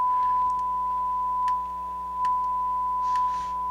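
A steady test tone plays through speakers driven by a Harman Kardon HK350i receiver, a pure, unbroken beep held throughout over a quiet background with a few faint clicks.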